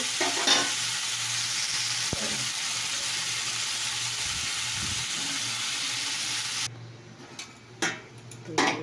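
Food frying in a pan gives a steady, close sizzle with occasional stirring clicks, running unbroken before it cuts off into a few quieter scrapes near the end.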